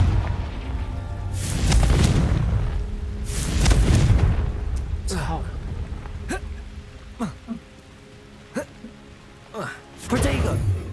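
Repeated Confringo fire spell blasts in Hogwarts Legacy on hard difficulty. Two heavy rumbling booms come first, then a series of sharper, punchy explosions spaced a second or so apart, loud and close, with game ambience between them.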